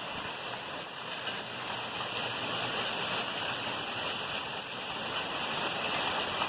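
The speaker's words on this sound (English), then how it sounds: "There's a lot of hail." A dense, steady rattling patter of hail pours down during a hailstorm without letup, a constant hiss filling the space.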